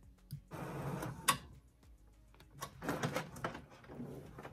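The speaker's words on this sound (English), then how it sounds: "it automatically printed out the back" A sublimation printer printing an all-over T-shirt design whirs and clatters, with mechanical clunks and rattling carriage movements in bursts and a sharp click near the start, close and moderately loud.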